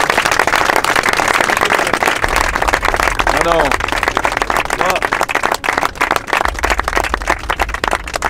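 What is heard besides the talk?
audience applause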